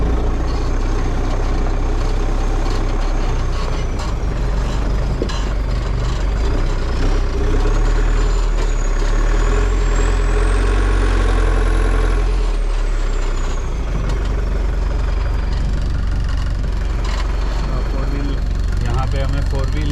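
A 2022 Mahindra Thar SUV on upgraded tyres runs its engine steadily while turning in snow, a loud continuous rumble for the whole stretch.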